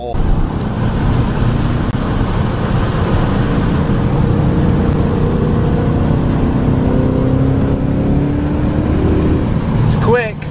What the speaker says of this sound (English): The 5-litre V8 is definitely powerful and moves this.